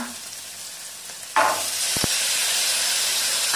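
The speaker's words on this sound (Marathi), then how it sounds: "शिमला मिर्च टाकून छान असे परतून घेऊ। भाज्या आता परतत आलेल्या आहे।" Capsicum, potato and other vegetables for a soybean veg biryani fry in a hot pan, a steady close sizzle that jumps louder as more vegetables are added, with brief stirring scrapes.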